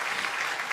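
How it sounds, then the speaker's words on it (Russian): A brief burst of audience applause during an online singing show, an even, close wash of clapping with no gaps. "Давайте аплодисменты"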